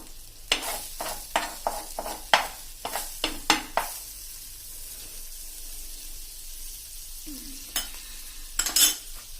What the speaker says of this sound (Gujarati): હવે એને આપણે આ રીતે બટર મૂકીને આ તવામાં જે આપણે જગ્યા કરી છે એમાં જ આપણે શેકી લેશું